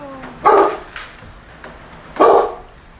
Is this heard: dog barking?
yes